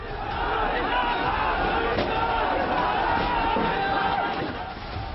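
A large crowd storming the Ajnala police post in Punjab, armed with sticks and weapons: a dense, continuous roar of shouting voices with scattered thuds and bangs, loud and sustained from start to finish.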